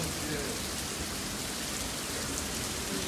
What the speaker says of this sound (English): because we got rain